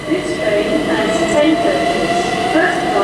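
Great Western Railway Class 802 and Class 387 electric trains at Reading station, a loud steady rumble and whine of rolling stock throughout, with someone talking over it.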